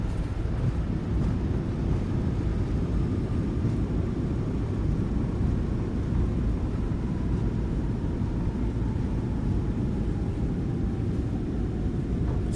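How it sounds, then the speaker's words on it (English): Airliner thrust reversers roar on landing in Microsoft Flight Simulator 2020, a loud continuous low rumbling engine wash with a faint descending whine, steady and unbroken throughout with no talk. "And we're going to trigger the reversers."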